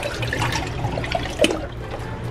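Soaking water poured off softened noodles for pansit, a short splashing gush into a sink with a few louder splatters near the end.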